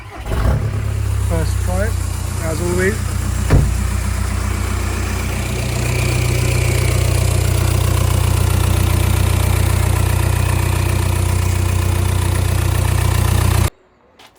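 A VW Golf MK5 with an ASZ/ARL diesel engine swap and no exhaust fitted cranks and fires, then settles into a loud, rough, throbbing idle that runs steadily up close. The idle ends abruptly when the engine is shut off. Someone speaks briefly at the start.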